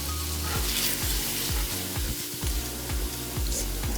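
Salisbury steak sauce sizzles loudly in a hot pan while being stirred, steady frying hiss punctuated by rhythmic spoon scrapes and low thumps, with no voices.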